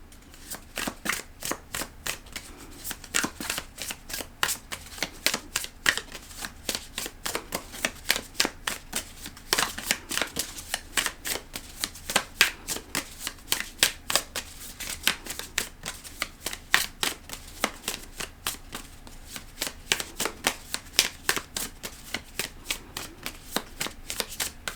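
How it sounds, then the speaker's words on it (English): A deck of oracle cards is shuffled over and over up close, with a steady run of crisp riffling snaps and soft slaps in repeated rhythmic bursts and no talking. "I'm going to pull just one card from this new deck that I have."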